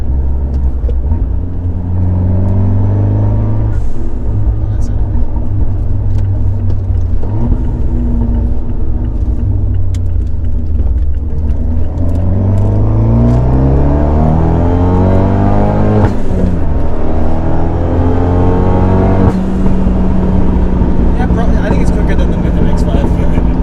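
A modified Fiat 124 Spider Abarth with a bigger turbo and a tune accelerates, its engine droning loud and close from inside the cabin and rising and falling through the gears, while people talk throughout.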